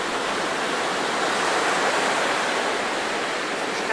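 Wild waves pound a beach with a strong current on La Digue in the Seychelles, a loud, continuous roar of surf and rushing water with no talking.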